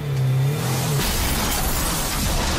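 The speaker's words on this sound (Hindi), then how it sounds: "आर्यन मार देता है नायरा की गाड़ी को" Car crash in the TV serial Ye Rishta Kya Kehlata Hai, where Naira's car is rammed: a steady engine hum gives way to a loud, sudden impact with a burst of crunching, shattering noise that fills the rest of the moment.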